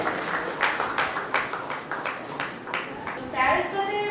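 Applause from an audience at an online meetup, a steady wash of clapping with occasional stronger bursts lasting the whole stretch, moderately loud and close, with some voice activity mixed underneath.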